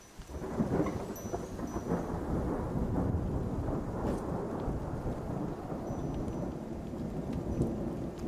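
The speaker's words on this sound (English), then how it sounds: "the first drops of rain came down" Steady rain patters down while low thunder rumbles through a stormy wash of sound, fairly close and continuous.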